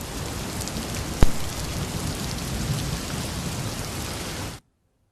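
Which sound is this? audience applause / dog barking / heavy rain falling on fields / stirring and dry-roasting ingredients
heavy rain falling on fields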